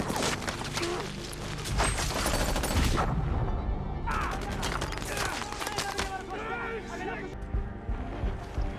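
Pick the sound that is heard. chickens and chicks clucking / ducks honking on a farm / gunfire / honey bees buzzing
gunfire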